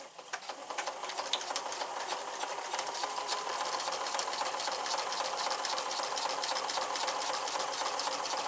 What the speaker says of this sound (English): And then we'll use the sewing machine to stitch this down about 1/4 of an inch up right here.